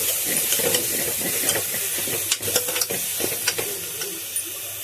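Soya chunks frying with ginger garlic paste in a pan for soya kurma, a steady sizzle broken by scraping stirs that come in a quick cluster midway, close and fairly loud with no talking.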